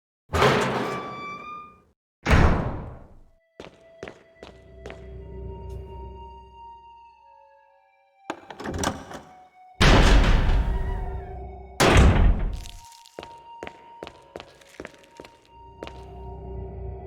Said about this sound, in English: Kick the door down, Chris.